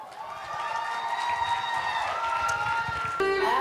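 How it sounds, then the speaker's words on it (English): Audience applause for a singer leaving the stage at a holiday charity concert, a steady wash of clapping and crowd noise with faint cheering, running throughout as a loud, close, continuous texture, with tonal music or feedback lines above. "Give her another clap as she goes down"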